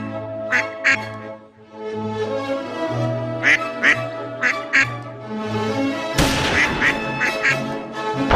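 A duck quacks repeatedly in short paired bursts over a steady musical backing, clear and prominent, with a louder jumble of sound near the end.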